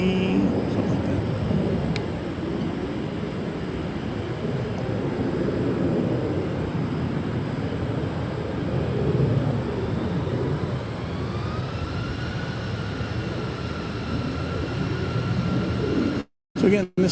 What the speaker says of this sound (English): So again, this Delta flight's going off to Atlanta. A321.